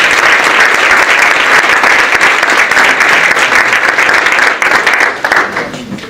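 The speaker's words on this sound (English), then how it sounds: "How about another round of applause?" Loud, close applause fills a board meeting room, brisk dense clapping that thins out and tapers in the final second.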